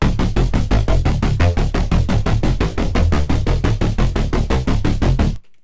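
A bright neurofunk synth bass arpeggio from the Vital synthesizer repeats in quick, even pulses on its own, loud and steady, then stops suddenly.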